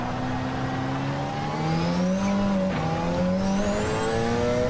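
A racing car engine in a video game at Fuji revs and drops steadily as gears shift, a loud continuous whine with rising and falling pitch, no voices.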